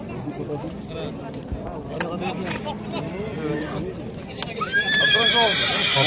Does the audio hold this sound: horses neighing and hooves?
yes